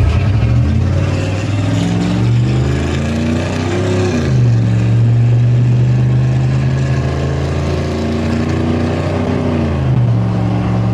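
A 1980s Chevrolet Silverado K1500 V8 pickup accelerates hard, its loud engine roar climbing in pitch through a gear, dropping at a shift, then rising again, close and alone.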